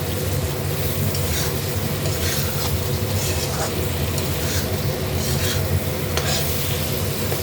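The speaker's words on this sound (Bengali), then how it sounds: "এবার এটা ভালো করে আমি কষিয়ে নেব" Papaya with tomato, salt and turmeric stir-fried in a pan, a dense continuous sizzle and rough scraping of a spoon against the pan, loud and close throughout.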